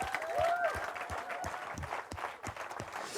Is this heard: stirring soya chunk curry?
no